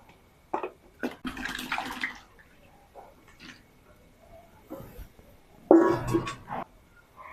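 Water splashes into a wok holding pieces of ash gourd in two short pouring bursts, close and moderately loud, separated by quiet stretches with faint kitchen noises.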